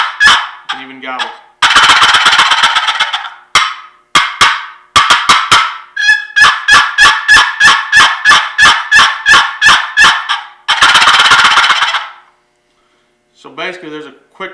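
A checkered wooden turkey box call imitates gobbles, alternating rapid rattling bursts with runs of sharp yelps, loud and close, ending after a short pause with a few raspy notes.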